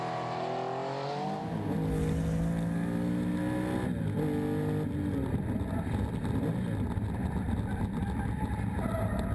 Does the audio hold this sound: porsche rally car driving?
yes